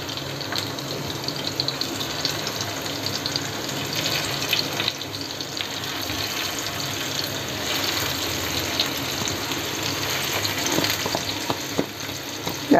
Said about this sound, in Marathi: ही कारली जी भरलेली कारली आहे ती अशी लावून घेते ह्याला.